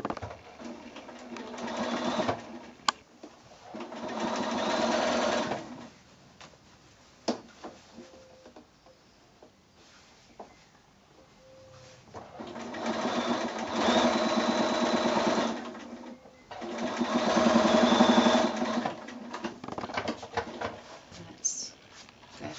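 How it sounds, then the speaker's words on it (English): A sewing machine runs a straight stitch along the inside seam of a fabric drawstring bag, in several bursts of steady whirring separated by pauses, with someone talking quietly in between. "I'll just do a little straight stitch because it's on the inside of the bag."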